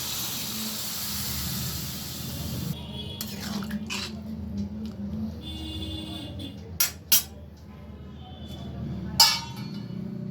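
Green chili and mustard paste going into a hot pan for a cauliflower-stalk chorchori, giving a steady bright hiss that drops off after a few seconds, followed by a few clinks of utensils on the pan.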